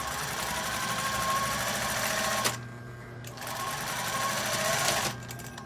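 A sewing machine stitches the shoulder seams of a shirt-style blouse, its loud, close, rapid mechanical whir running steadily, stopping briefly, then resuming before cutting off near the end.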